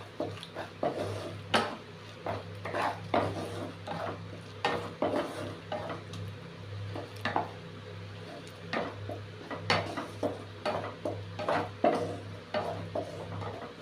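Paneer curry being stirred in a pan, with repeated sharp scrapes and knocks of a spoon against the pan over a low steady hum and faint sizzle, close and rhythmic throughout.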